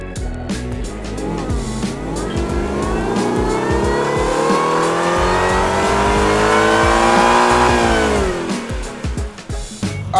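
A Ford Raptor R fitted with a Whipple supercharger revs hard through a dyno pull, its engine note climbing steadily for about eight seconds in a loud, close roar, then easing off at the end.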